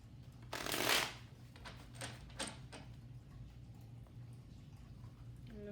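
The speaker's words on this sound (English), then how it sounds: "Shuffle them 4 times." A deck of tarot cards is shuffled by hand, a brief papery riffle rising near the start followed by a few softer card slaps, close and quiet against a low steady room hum.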